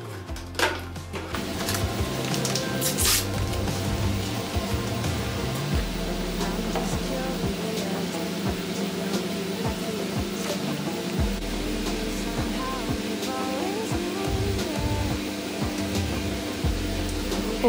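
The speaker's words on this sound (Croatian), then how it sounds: "Ovo je ko šumeća tableta, tako se rastvara." An effervescent cleaning tablet fizzes as it dissolves in water inside an old plastic bottle, giving a continuous close hiss with scattered faint crackles and knocks over about eighteen seconds.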